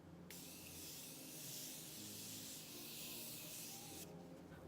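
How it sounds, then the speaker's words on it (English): Morphe Continuous Setting Mist sprayed in one long, steady hiss lasting about four seconds, close and fairly loud, with a faint low hum underneath and no talking. "So I'm gonna use the Continuous Setting Mist from Morphe."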